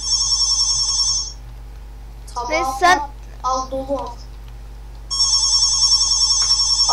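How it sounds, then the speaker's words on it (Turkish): A home telephone rings loud and close in steady electronic bursts that break off while someone speaks briefly over a low hum, then start again. "bir dakika ev telefon çalıyor"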